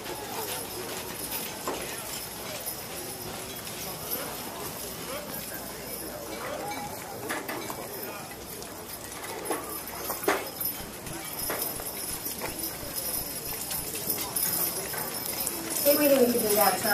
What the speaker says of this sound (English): this is a 6-horse hitch of Belgian draft horses